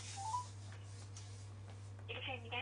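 A telephone dials a call to 114 with a quick run of keypad tones near the end, following a stretch of people talking over a low, steady hum.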